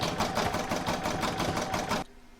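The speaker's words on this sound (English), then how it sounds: "I'm going to pop that back into my machine and stitch round to number 2" A sewing machine runs fast, stitching batting onto gift box fabric in a steady pulsing rattle for about two seconds, then it stops abruptly.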